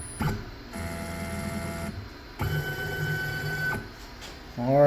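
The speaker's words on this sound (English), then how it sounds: "crank up the spindle" A CNC mill spindle is switched on in bursts, producing steady motor whine tones that stop and restart, then climb in pitch as it spins up at the end, with some background clatter.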